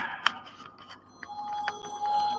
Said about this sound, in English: Of course, I'll get a phone call.